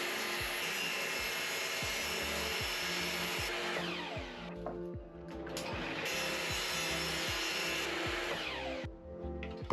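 A power saw ripping wooden boards lengthwise, two long loud continuous cuts with a steady whine and rhythmic thumping, separated by a short pause.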